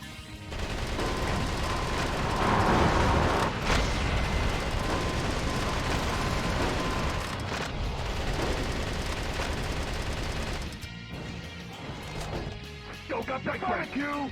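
Sustained rapid video game gunfire shooting down incoming missiles, loud and dense for about ten seconds, then thinning into scattered bursts and lighter effects near the end.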